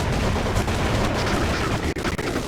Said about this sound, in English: gun called the M249.